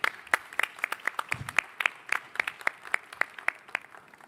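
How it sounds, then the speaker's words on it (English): Steady applause from a room of people at a Hong Kong football event, many hands clapping in a continuous patter with a few sharper individual claps standing out. "I would like to ask everyone to give a round of applause for our Sports Minister, Rosanna Law"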